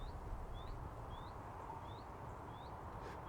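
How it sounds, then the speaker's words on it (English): Faint bird chirps repeat at regular intervals outdoors at an airport, thin rising calls over a steady low rumble of background noise. "Can you hear that bird there?"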